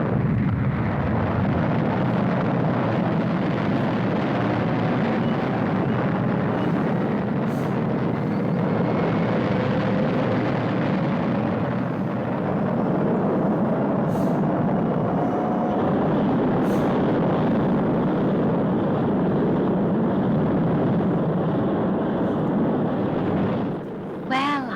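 Thunderbird 3 rocket blasting off in the Thunderbirds puppet TV series, a loud, sustained roaring rumble of engine thrust lasting over twenty seconds, with a faint rising whine inside the roar before it cuts off.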